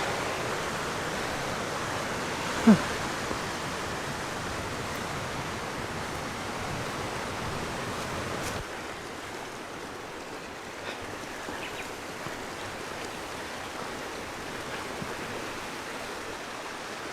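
Steady broadband rush of a mountain stream along a hiking trail on the Utsukushigahara plateau in Nagano, continuous and fairly close, with one small knock early on and no talk.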